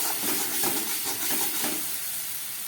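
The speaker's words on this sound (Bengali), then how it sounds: "একদম গ্যাসটা কমিয়ে প্রায় 3 মিনিটের মতো মশলাটাকে খুব ভালো করে কষিয়ে নিলাম" Spice masala sautés in a pan over low gas, giving a continuous close sizzle and hiss with faint soft stirring scrapes.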